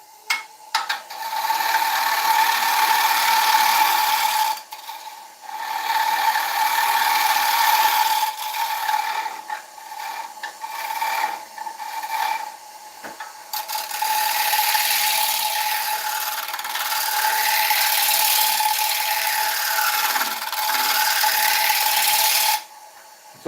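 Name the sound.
drill driver removing a disc from an oak bowl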